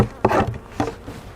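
Honey bees fan and buzz at a hive, a close, steady insect drone with two louder swells as bees pass near.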